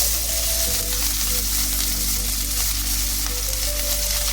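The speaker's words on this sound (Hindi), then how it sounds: "पियाज को टिके गोल्डन ब्राउन कलर हेबा पर्यंत भाजी नबा" Onions frying in a pan toward golden brown for an eggplant masala, a dense continuous crackling sizzle heard up close, with a low steady hum beneath and no speech.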